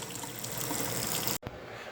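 Water pours briefly into a homemade natural beard dye mixture, a soft close trickle that stops abruptly and leaves a faint quiet tail.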